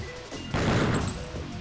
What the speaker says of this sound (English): Oh, both the shots missed.